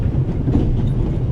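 Train travel in The Raven: Legacy of a Master Thief, a loud, steady low rumble of carriage and rails rolling continuously with no distinct clacks or voices.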